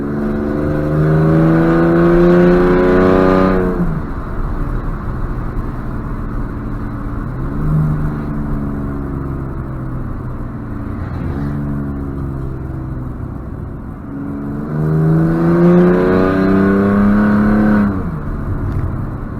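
BMW E46 with an Alpina engine tune accelerating hard, loud and close, its engine note climbing through repeated gear pulls with brief dips between shifts and a sustained rising roar.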